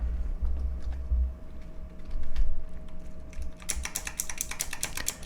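Rapid keystrokes on a clicky computer keyboard, close and crisp, start sparse and soft, then become a denser burst of sharp clicks toward the end, with no talking.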